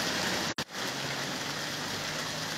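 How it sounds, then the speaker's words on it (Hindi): Heavy rain falls steadily in Bandipora, a dense continuous hiss with a brief dropout near the start, with no voices over it. "आप देख सकते हैं इस वक्त काफ़ी अच्छी खासी तेज़ बारिश हो रही है।"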